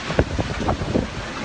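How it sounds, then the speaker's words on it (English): Gale-force storm winds by the coast, a loud continuous roar of wind buffeting the microphone with no break. "Gale force winds whipped up huge waves by the coast."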